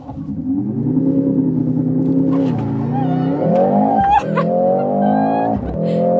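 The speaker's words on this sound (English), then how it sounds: "Launch control, acceleration, let's go." A Mercedes GLC 63 AMG engine roars under launch-control acceleration. It climbs steadily in pitch and pauses briefly at two upshifts before pulling hard again, loud and close from inside the cabin.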